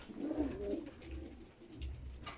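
Racing pigeons in a breeding coop give soft, low, repeated coos in several rounds, fairly quiet and close, with faint rustling between calls.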